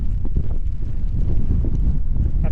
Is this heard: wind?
yes